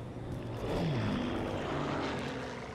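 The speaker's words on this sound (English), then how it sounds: "And those airplanes flying overhead were always there from the very beginning." Propeller airplanes drone overhead in the Call of Duty 2 video game, a loud engine roar that swells and fades slightly as they pass.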